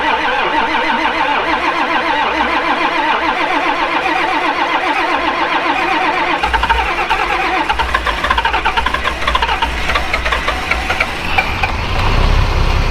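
A heavy diesel tractor engine, not plugged in, cranks in 35-degree cold on a farm, turns over, then catches and settles into a loud, rough idle close by.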